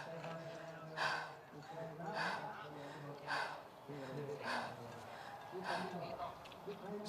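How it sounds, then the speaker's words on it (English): Young female biathlete at a youth relay in Östersund breathing hard before shooting, a series of about five loud, evenly spaced breaths close to the microphone with no talk. "Listen to the breathing and watch the rhythm between each shot."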